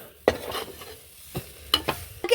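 Crab masala stirred in a pan, a few distinct scraping strokes of the spoon with soft sizzling between them, close and fairly loud.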